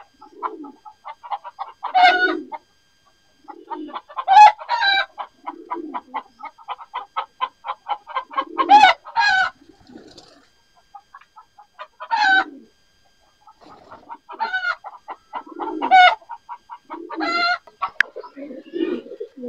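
Several pigeons in a coop coo in repeated low, throaty bursts, close by, with soft fluttering calls between phrases and brief pauses of quiet.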